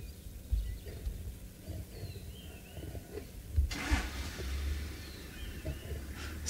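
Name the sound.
safari vehicle engine running at wildlife sighting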